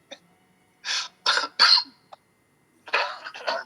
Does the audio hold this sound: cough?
yes